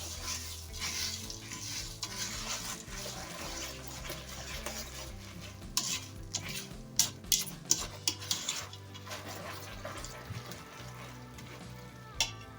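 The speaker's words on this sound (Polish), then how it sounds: "to dorzucamy stopniowo ryż. Najpierw jedną paczuszkę. Mieszamy" Puffed rice being stirred into melted butter in a pot, with a steady rustling, scraping stir under a low sizzle and several sharp clinks of a spoon against the pot near the end.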